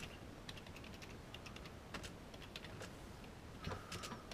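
Typing on a computer keyboard, rapid irregular key clicks going on continuously, faint and close, with a slightly louder cluster of taps near the end and no talking.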